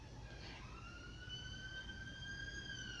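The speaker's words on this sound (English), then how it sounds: "another siren" A siren wails continuously outside, steady rising and falling tones holding over a constant low rumble of background noise, fairly distant and not especially loud, with no one talking.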